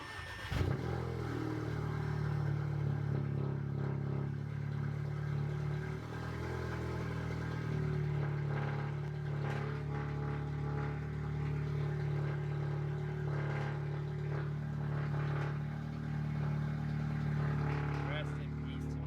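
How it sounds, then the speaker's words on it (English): A car with a custom downpipe cold-starts and settles into a loud, steady idle, a deep droning exhaust note running continuously up close with small fluctuations throughout. "Here's a nice little cold start."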